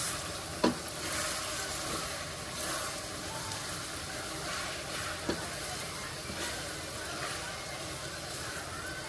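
Food being stirred in a sizzling pan while cooking pastil: steady scraping strokes over a constant frying hiss, with a couple of sharper knocks from the utensil against the pan.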